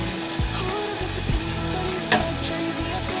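Mutton kheema sizzles and fries in a pan at home, a continuous crackle broken by a few sharp scrapes and stirring taps.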